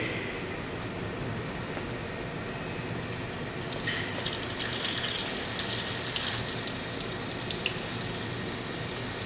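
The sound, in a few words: water rushing while pressurizing and bleeding a backflow test gauge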